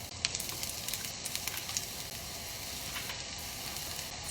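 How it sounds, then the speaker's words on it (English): Onions sizzle in hot oil in a pan. The frying hiss is steady and crackly, with scattered small pops, faint and fairly close, with no talking. "Onions going in."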